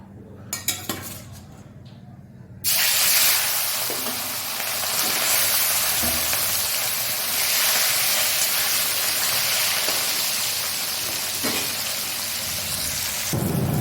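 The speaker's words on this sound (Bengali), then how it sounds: "মাছগুলো ভেজে নেব।" Catla fish frying in oil, opening with a few clinks and handling sounds before a loud, steady sizzle and spatter takes over and holds close and constant to the end.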